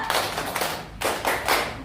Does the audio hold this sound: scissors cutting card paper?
no